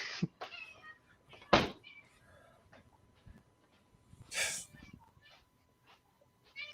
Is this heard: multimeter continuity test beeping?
no